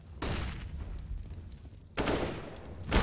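Gunfire in a Counter-Strike match at the PGL Major Antwerp, 9z Team versus Team Liquid: bursts of in-game shots in two loud clusters separated by a brief lull, with a faint voice in the background.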